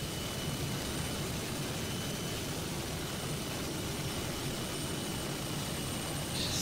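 Lockheed T-33 Shooting Star jet engine in a flight simulator, throttled back to about 80% power, gives a steady broadband roar with a faint high whine, constant and unbroken throughout.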